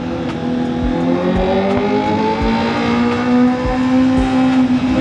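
A Honda CB650R motorcycle engine drones loud and close with a deep, steady tone that climbs slightly as it is ridden along a road.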